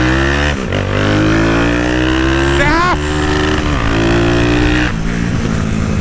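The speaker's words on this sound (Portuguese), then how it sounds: "Olha o jeito que a moto tá pegando 100, rapaziada." A 330cc motorcycle accelerates hard at speed, its engine note rising steadily through the gears with sharp shifts, loud and close over strong wind noise.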